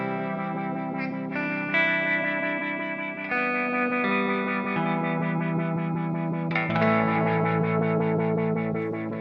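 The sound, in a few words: Old Blood Noise Endeavors Sunlight pedal reverb with long decay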